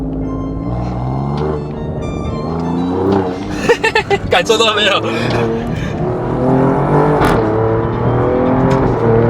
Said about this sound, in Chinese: 我给你看一下它的油门反应